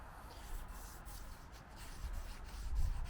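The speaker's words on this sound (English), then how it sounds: "Polish this tip, we're just going to use some 400 grit wet dry" Wet-dry 400 grit sandpaper rubbing and polishing the tip of a deer antler tine, a close, steady scratchy friction with slight swells in loudness, no talking.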